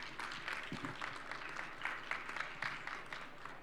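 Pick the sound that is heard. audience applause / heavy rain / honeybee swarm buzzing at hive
audience applause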